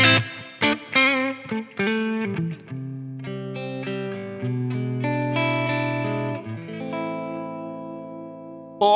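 A Victory Sheriff 25 two-channel tube guitar amp plays a distorted electric guitar riff of punchy chords and sustained notes, loud and close, ending on a ringing held chord.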